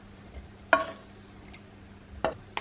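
Food ingredients being mixed in a bowl at home, with three or four separate scraping, clinking strokes of a utensil against the bowl, fairly quiet against a low background hum.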